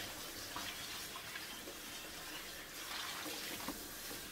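Hot water running steadily from a kitchen tap while doing dishes, a close, continuous splashing hiss with no talking.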